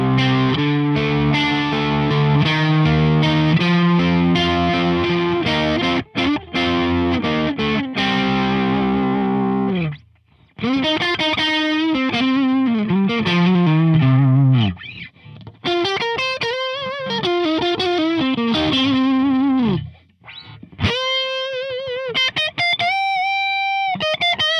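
Electric guitar played through an Astro-20 amp with the effects switched off, heard as a loud distorted tone of sustained chords and melodic note runs, with short breaks between phrases and no talking.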